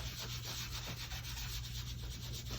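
Sponge dragged through ink across shimmer white cardstock, a soft continuous rubbing scrape close by over a low steady hum.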